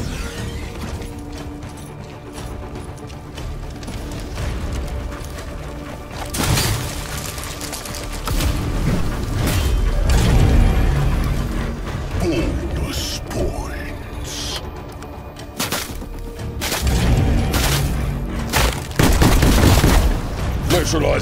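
Heavy gunfire in Call of Duty Cold War zombies gameplay, with repeated booming shotgun blasts and bursts over a dense layer of game effects and mechanical clatter, loud and frequent across the whole stretch.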